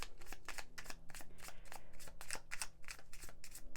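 A tiny travel tarot deck is shuffled by hand, a quick series of soft crisp riffling bursts in steady rhythm, close and quiet with no talking.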